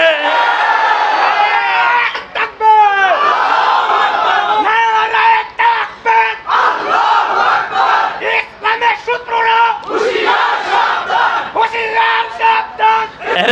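A large crowd at a Bangladeshi Islamic sermon gathering chants and shouts slogans in loud, rhythmic unison bursts with brief pauses between the calls, filling the space throughout.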